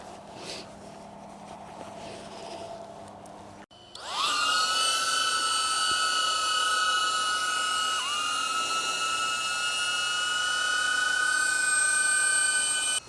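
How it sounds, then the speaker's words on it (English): A small camera drone lifts off outdoors on a nature hike and hovers close by. Its rotors give a sudden loud, high, buzzing whine that holds steady for the rest of the clip, with only a brief dip in pitch. "when the drone takes off, it creates a lot of dust, sort of like a helicopter."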